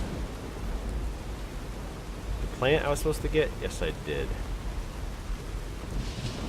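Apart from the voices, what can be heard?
rain in the desert, from video game Fallout New Vegas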